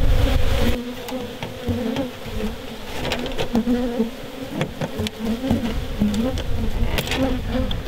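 Dense, steady buzzing of many honey bees swarming close around the top box of a hive during a hive split, with scattered louder passes as individual bees fly near.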